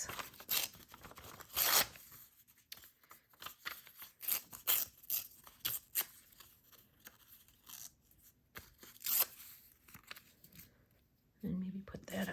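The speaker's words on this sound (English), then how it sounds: "maybe tear a piece." Paper offcut scraps for a collage tag are torn by hand, giving repeated short ripping bursts with gaps between them, close to the mic, and a voice speaks briefly near the end.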